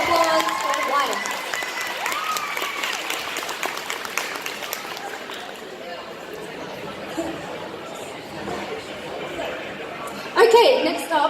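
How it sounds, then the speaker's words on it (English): Applause from the audience at a cosplay competition, mixed with crowd chatter and cheers. It is moderately loud at the start, thins out through the middle, and swells again briefly near the end. "big round of applause for Wyatt."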